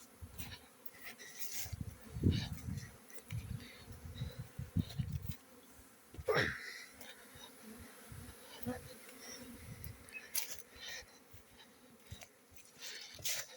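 Honey bees flying outdoors around a hive on a mild November day, a steady buzzing swarm with individual bees droning close past, louder passes rising over the busy hum.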